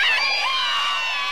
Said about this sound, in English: They just want to be there to scream.